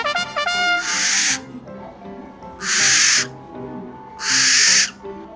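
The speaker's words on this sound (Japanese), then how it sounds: "まずはこちらメンフクロウの竹蔵くんが皆様をお出迎えいたします。" A barn owl at an exotic-animal exhibition in Hakata, Fukuoka, gives three loud, harsh, hissing screeches, each lasting about half a second, with pauses between them. Brief whistle-like chirps come first.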